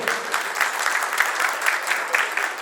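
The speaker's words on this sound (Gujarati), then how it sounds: "તાળીઓના ગણગણાટથી વધારજો ભાઈઓ" Sustained applause from an audience in a Kutch Prajapati community hall, a dense, steady clatter of many hands with slight surges, close and fairly loud throughout.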